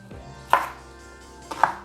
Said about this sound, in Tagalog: Hiwain lang natin ating sibuyas.